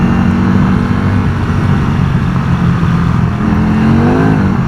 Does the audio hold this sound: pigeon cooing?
no